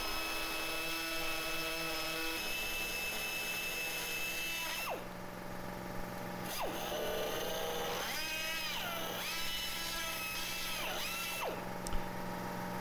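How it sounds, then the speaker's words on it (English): A burr cutter on a power tool cuts a hole in a panel, whining steadily with shifts in pitch as the bit bites and eases, close and continuous throughout. "I'm going to go ahead and use my burr cutter to just cut out as close to that circle as I possibly can"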